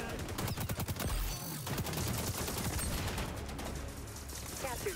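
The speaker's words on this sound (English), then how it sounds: "Dodge the bullets." Rapid gunfire in the shooter game XDefiant, with dense bursts of automatic shots and busy game effects that stay loud and constant throughout, under some talking.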